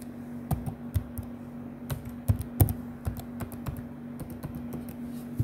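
A password is typed on a computer keyboard, quick irregular key clicks in bursts with short pauses, close and clear, no talking.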